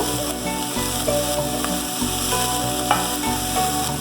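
Onion and chili sizzling in hot oil while cooking vegetables for a steamed chicken momo filling, a close, continuous crackling fry with occasional stirring scrapes and music playing underneath.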